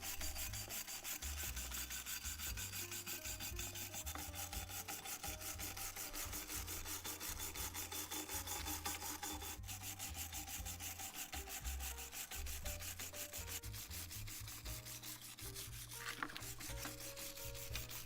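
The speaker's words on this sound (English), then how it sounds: "And then I attacked the rust with a wire brush." Wire brush scrubbing rust from a vintage Record 52 1/2 P woodworking vise, a steady rasping back-and-forth scrape repeated in quick strokes, close and alone without talk.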